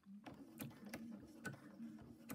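Brother Luminaire sewing machine stitching on a button: a steady mechanical hum with a run of sharp, regular needle clicks, close and fairly quiet, with no talk.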